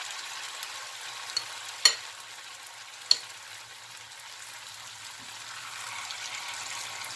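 Pumpkin fritters fry in hot oil with a soft, steady sizzle and crackle, broken by a couple of sharper pops, heard quietly with no one talking.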